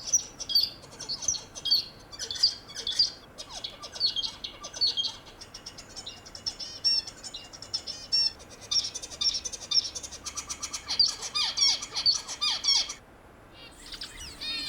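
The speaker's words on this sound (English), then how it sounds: "Using their unique song, male zebra finches can maintain a strong bond with their partners" Male zebra finch singing, with rapid repeated high chirps and squawky notes in quick bursts, close and clear with no talk.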